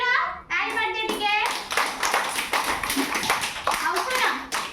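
Children in a classroom activity clap their hands together in a quick, fairly steady burst, close and loud, with kids' voices mixed in throughout.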